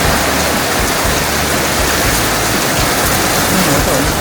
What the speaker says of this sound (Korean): 저 물 쏟아져.